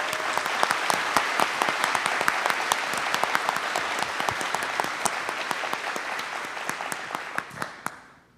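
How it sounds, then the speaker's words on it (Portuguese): A hall audience applauds an honoree at a formal induction ceremony of a Brazilian pharmaceutical sciences academy: dense, sustained clapping that thins and fades out at the end, with no speech over it. "Especiais palmas para a doutora Ogari de Castro Pacheco"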